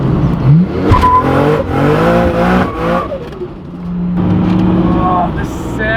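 A 34-year-old Holden Commodore VL Turbo with a roughly 600 hp Nissan RB30 engine accelerates hard, loud and close, its engine note rising in pitch through the gears with brief breaks between pulls.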